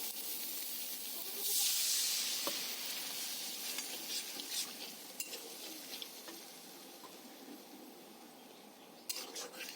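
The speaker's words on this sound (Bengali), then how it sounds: "এবার এই গুঁড়ো মশলাগুলো দেওয়ার পরে খুব ভালো করে মশলাটাকে কষিয়ে নেব" Powdered spice masala frying with a splash of water for a kofta curry, a faint soft hiss with a brief steam surge and occasional light taps of stirring.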